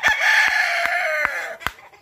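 A gamecock crows loudly and close at a cockfight in Pasay Coliseum, one long drawn-out call cut by sharp percussive knocks from the crowded arena.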